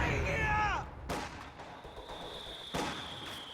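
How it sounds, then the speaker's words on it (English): In the strategy game Company of Heroes 2, a demolition charge goes off as a sharp, heavy blast, followed by a second loud explosion amid battle noise, after a brief warbling tone at the start. "Oh, demo charge down here."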